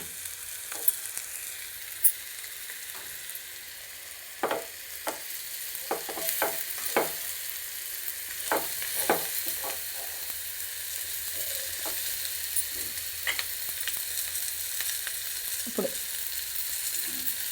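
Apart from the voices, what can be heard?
mango pieces frying with onions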